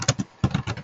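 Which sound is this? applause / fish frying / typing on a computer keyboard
typing on a computer keyboard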